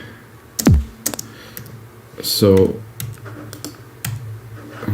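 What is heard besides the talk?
typing on computer keyboard, musical typing in music software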